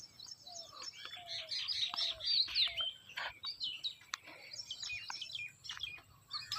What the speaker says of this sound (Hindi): यहाँ चिड़ियाँ तरह तरह की चिड़ियों की आवाज़ आ रही है।